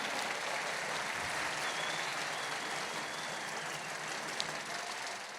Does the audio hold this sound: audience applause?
yes